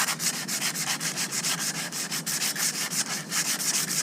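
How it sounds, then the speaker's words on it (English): Steady rhythmic sanding of a truck's front brake rotor during a brake job, a continuous scratchy rubbing with regular strokes, close and fairly loud with no talking. "Flip the rotor. I can spin and sand again."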